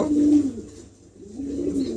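A pair of pigeons offered for sale coos in low, rolling calls, one near coo at the start and another swelling back toward the end.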